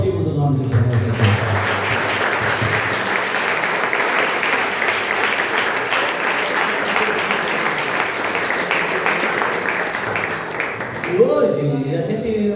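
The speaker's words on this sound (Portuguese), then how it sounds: "eu e você aplaudimos o nome do Senhor Jesus" A congregation at a church retreat applauds, a loud, dense wash of clapping sustained for about ten seconds. A voice is heard briefly at the start and again as the applause ends.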